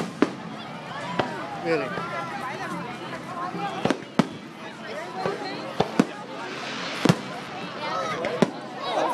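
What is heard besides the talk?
fireworks going off at a hot air balloon festival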